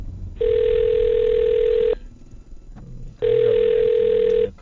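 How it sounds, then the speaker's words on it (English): Steady dial tone from a telephone line, sounding in two long unbroken stretches separated by a short pause, clear and close. "I'm going to dial her phone number right now"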